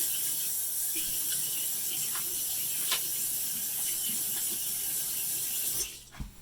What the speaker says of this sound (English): I'm just going to rinse them off real quickly.